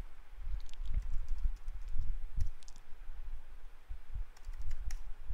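Computer keyboard typed in bursts while entering login details during a server setup on Ubuntu, with rapid close clicks, short pauses and no speech.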